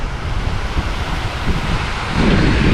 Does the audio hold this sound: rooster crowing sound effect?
no